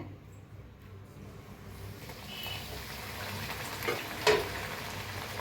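Bhature deep frying in hot oil, a continuous bubbling sizzle that grows a little louder as the dough goes in, with a brief clink near the end.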